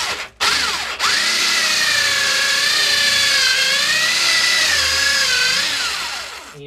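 Power drill boring upward into a wall cavity to run wires, a loud continuous whining motor drone close by that rises and dips slightly in pitch as it bites, after a brief start and stop.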